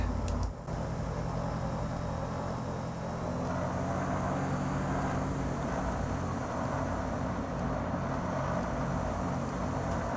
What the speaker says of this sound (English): I'll just give you a bit of a sort of panoramic sound of the aircraft from the outside.